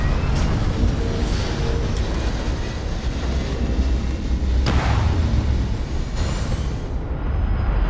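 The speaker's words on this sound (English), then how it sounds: "All thrusters firing." Spaceship thrusters in Starfield roar as a steady, loud, broadband rush that holds for several seconds, then cuts off abruptly near the end.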